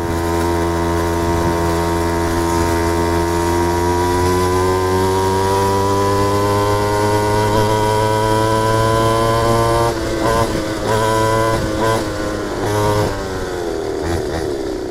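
A mini bike engine that sounds like an Rx100 two-stroke revs loud and close, a steady buzzing drone that rises in pitch and then breaks into rough, stuttering throttle blips near the end.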